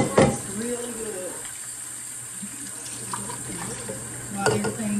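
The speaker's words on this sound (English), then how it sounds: "I'm going to rinse my rice, because you know you got to rinse your rice really good." Rice is rinsed at a kitchen sink as running tap water splashes and swirls steadily, with a few louder sloshes, while a person speaks in the background.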